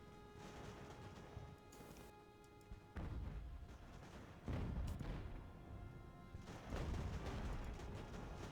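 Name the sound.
ship cannon fire in the Ultimate Admiral: Age of Sail video game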